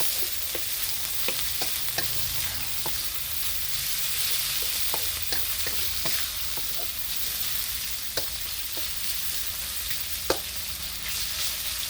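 Marinated pork, seasoned with oyster sauce and light soy sauce, frying in a pan for stir-fried rice noodles, with a steady close hiss and scattered sharp crackles and pops, no talking.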